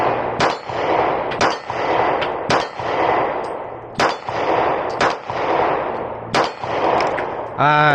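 Sig P250 pistol in .40 S&W fires about ten sharp shots in an uneven rhythm, each crack followed by a ringing clang of steel targets, loud and close, with a brief ringing tail at the end.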